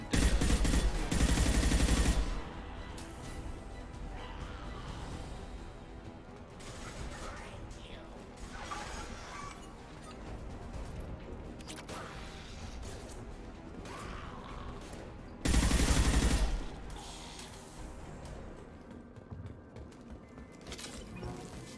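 Gunfire from the video game Mass Effect 2: two loud broadband bursts of shooting, one at the start and another mid-clip, set against a continuous layer of game music and mechanical ambience.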